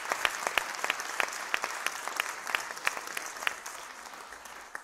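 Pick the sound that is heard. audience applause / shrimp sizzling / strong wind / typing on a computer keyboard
audience applause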